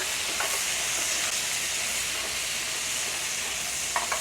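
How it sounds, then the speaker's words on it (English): Washed green beans sizzling in a hot pan with toasted garlic, a loud, steady frying hiss with faint crackles and a light clink near the end. "Let's add our washed green beans to the pan."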